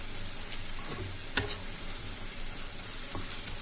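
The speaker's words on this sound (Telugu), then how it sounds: "కారం ఆయిల్లో వేసుకొని ఫ్రై చేస్తే కర్రీ కూడా మంచి కలర్ వస్తుందండి" Chili powder frying in oil for a curry gives off a steady, close sizzle, with a few soft clinks and scrapes of stirring breaking through the hiss.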